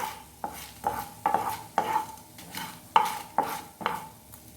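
Pepper and spices for chicken chettinad are fried in a pan, stirred with a utensil in a steady rhythm of about ten scraping strokes over a soft sizzle, close and fairly quiet.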